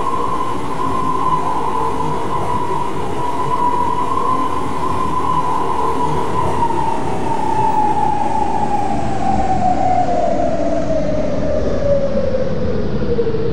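A SkyTrain rumbles along steadily between stations toward Brentwood Town Centre with a loud, constant roar and a slowly falling whine, no voices.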